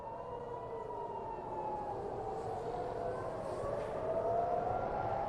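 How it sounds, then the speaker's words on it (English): Distant air raid sirens in Israel during an Iranian missile attack wail over a low rumble, their tones slowly rising and falling and overlapping, growing slightly louder toward the end. "civilians have to take shelter upon hearing those air raid sirens"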